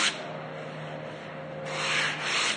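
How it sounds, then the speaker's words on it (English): Sandpaper rubs across a rustic wooden tabletop by hand in a continuous scratchy stroke, growing louder near the end, close by. "when I'm sanding it down, it's going to bring a little more the texture to it."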